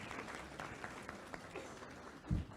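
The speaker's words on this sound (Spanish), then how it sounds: "Un aplauso, por favor, a la maestra Elsa." Faint, scattered clapping from a small audience thanking a teacher after a talk on the US–China trade war, thinning out, with a low thump near the end.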